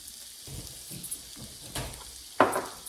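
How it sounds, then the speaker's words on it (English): Onions sautéing in butter in a pan, with a soft hiss and gentle sizzle under a few stirring scrapes and light clinks, ending in a sharper metallic knock. "We're now going to saute the onions in the butter."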